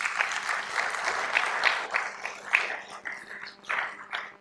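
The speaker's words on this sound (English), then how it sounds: "So give yourselves a big round of applause" An audience at a gathering gives itself a big round of applause: steady, dense clapping from many hands, moderately loud, with pulses of stronger bursts and no talking over it.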